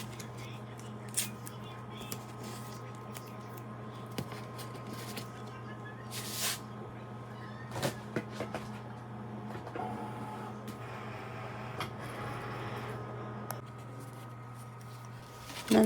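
A Cricut machine cutting heavy cardstock on a deep setting, a steady low mechanical hum and whir with scattered clicks and brief motor surges over about sixteen seconds.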